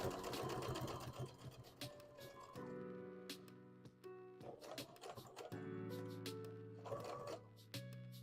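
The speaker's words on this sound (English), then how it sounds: "maybe if we sew it really close to the edge" Sewing machine stitching fabric for a Pokemon hat, running in several close, steady bursts with short pauses between them and no talk.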